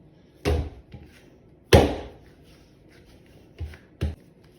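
Bread dough for pain de mie slapped and kneaded on a work surface, with two heavy thuds followed by two lighter slaps and soft shuffling in between, close and unaccompanied by talk.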